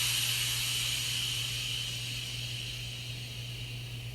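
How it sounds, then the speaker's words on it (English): A steady, broad hiss of escaping steam from a steam engine runs throughout with a low hum beneath, fading slightly toward the end; no voices. "the fireman lit the fire and made a nice lot of steam"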